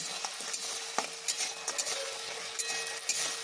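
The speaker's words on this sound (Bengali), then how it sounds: "এবার ভেজে রাখা বড়াগুলোকেও দিয়ে দেবো এর মধ্যে। বড়াগুলোকে মশলাটার সঙ্গে মিশিয়ে নেব।" Fried rice fritters stirred into masala in a pan: repeated spatula scrapes and light clinks ride over a soft, steady sizzle, close but fairly quiet.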